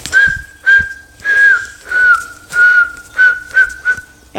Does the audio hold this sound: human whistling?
yes